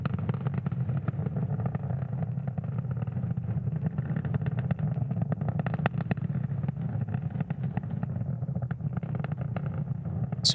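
The first-stage Merlin 1D engines of a SpaceX Falcon 9 on a Starlink launch roar during ascent as a steady, distant low rumble with faint crackle, constant in level throughout.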